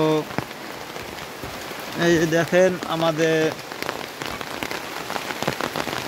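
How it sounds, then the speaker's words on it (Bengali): Heavy rain pours down in a village, a steady close patter running throughout, while a person speaks briefly over it in the middle. "আজকে আমাদের এলাকায় অনেক বৃষ্টি হইতেছে"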